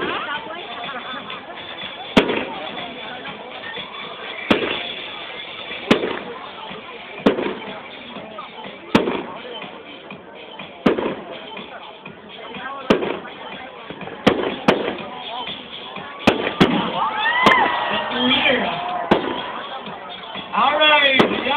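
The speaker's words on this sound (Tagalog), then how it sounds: "A fireworks display for a big celebration" Fireworks at a big celebration burst in a long irregular series of sharp booms and crackles, some distant, with a crowd murmuring and voices chattering in the background.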